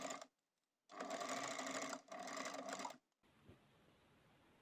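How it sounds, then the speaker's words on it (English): Sewing machine zigzag-stitching around the edges of two fabric pieces for a homemade juggling ball, running in two steady bursts of about a second each with brief pauses, then stopping into quiet room tone. "And we're done with the machine sewing."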